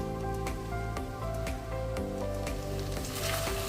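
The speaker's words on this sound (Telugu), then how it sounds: "ఇలా మంచిగా కలుపుకోవడం వల్ల మనకి బెండకాయ ముక్కలన్నీ వేగిపోతాయి" Okra pieces fry in a pan, with a loud, continuous sizzle and regular scraping stirs roughly every half second lifting the pieces from bottom to top.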